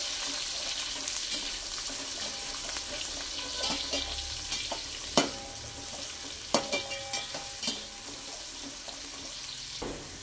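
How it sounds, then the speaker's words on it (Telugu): Chopped onion pieces frying in a pan for a vegetable biryani, a soft continuous sizzle punctuated by sharp spoon knocks and scraping stirs against the metal, some clustered in quick bursts. "ఇప్పుడు ముందుగా కట్ చేసి పెట్టుకున్న ఉల్లిపాయ ముక్కలు వేసేద్దాం. వేసేసి ఇలా మంచిగా నీట్గా కలుపుతూ ఉండాలండి."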